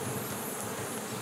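Honeybees buzz at an opened hive during a spring inspection, a dense continuous hum filling the clip.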